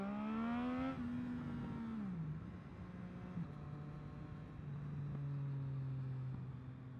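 A Triumph Street Triple motorcycle engine revs high under hard acceleration during a wheelie attempt, then drops in pitch and settles into a lower, steady drone after gear changes, loud and close, heard alone.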